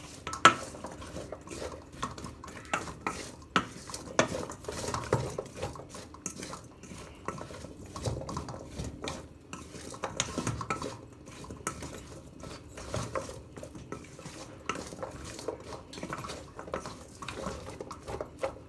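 Green banana fries being mixed in a bowl, with utensils clinking and scraping against the dish in a steady, busy rhythm of close taps and stirs.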